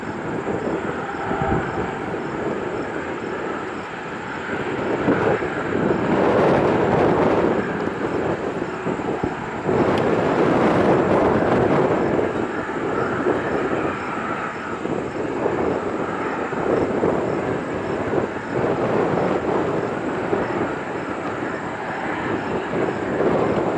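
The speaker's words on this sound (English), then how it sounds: "This Sanford King Air is going to depart." A Beechcraft King Air operated by Sanford departs from Sioux Falls airport, its turboprop engine noise a steady broadband roar that swells and holds loud, with no voices present.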